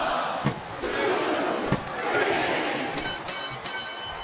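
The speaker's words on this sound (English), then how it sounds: "listen to that chant" A wrestling arena crowd in a WWE SmackDown vs Raw 2007 match between Mark Henry and Batista chants steadily, a broad roar from a distance punctuated by a few sharp thuds and bright bursts near the end.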